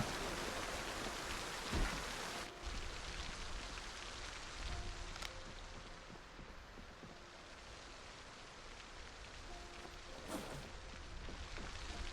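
Rain during a severe tropical storm in the Project Zomboid video game, a dense continuous hiss of heavy rainfall, loud and steady with a few brief thumps and tonal game cues over it.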